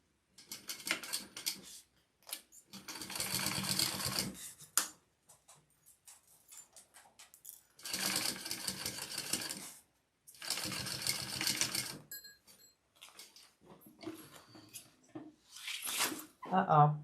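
A home sewing machine basting layers of fabric runs in several rapid mechanical bursts of a few seconds each, separated by pauses, with soft handling noises between runs.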